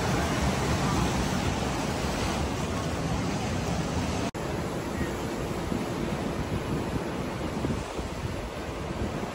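Ocean waves breaking near a saltwater pool at Bondi, Sydney, a continuous soft surf wash with wind mixed in, steady and moderately faint, interrupted by a brief dropout midway.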